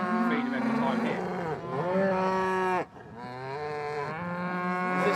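Young farm cattle moo loudly and close by, two long drawn-out bellows separated by a short break, with a faint background hum.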